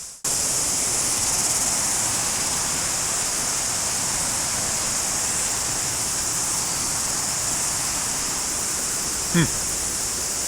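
A river rushes near a waterfall in Rotorua as a constant, loud wash of water noise, with one brief soft knock near the end.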